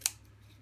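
Scissors making a single quick slant snip through ribbon, one brief close crisp cut then quiet.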